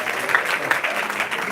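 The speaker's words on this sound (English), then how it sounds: "Please applaud to him" An audience at a business school lecture on deep learning claps steadily in a dense, even wash of applause that fills the room, with no talking over it.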